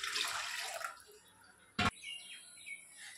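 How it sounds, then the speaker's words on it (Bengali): Water splashes briefly into a kadai set on the stove for heating, a soft, faint pouring hiss for about a second, followed by quiet room sound and a single short knock. "কড়াটা জল দিয়ে দেবো গরম হওয়ার জন্য।"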